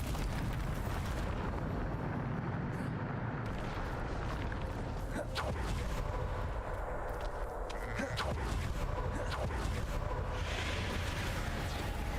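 A Bombarda spell blast in Hogwarts Legacy, a booming eruption-like explosion with crackling debris and rumble, loud and sustained under a dense game soundscape with scattered pops.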